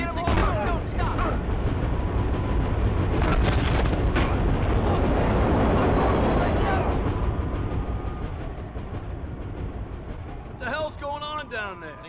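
A train in The Warriors video game rumbles past with a heavy roar that swells and then fades, ending in squealing metallic tones, while voices talk over it.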